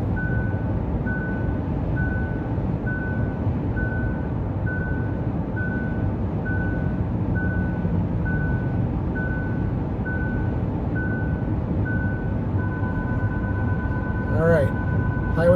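A Hyundai driver-assist warning chime beeps repeatedly at a steady quick rhythm over low road rumble inside the moving car, then turns into a continuous tone with a few rising chirps at the end.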